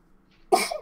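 A single sharp sneeze bursts out after a short stretch of near silence during a tabletop role-playing game session, loud and close.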